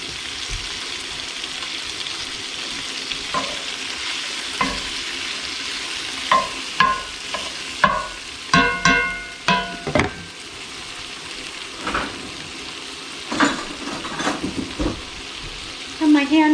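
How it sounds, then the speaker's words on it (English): Chopped onions and garlic sauté in a hot pan for lasagne, giving a steady close sizzle broken by scraping and clattering utensil strokes as they are stirred. "let's go ahead and saute the onions and the garlic"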